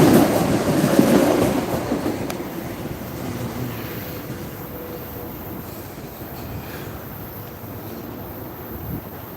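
A Metro-North train rumbles steadily past on the Williams Bridge on a cold day, a loud broadband roar with faint wheel squeal and clatter, easing slightly as it rolls by, with no talk over it.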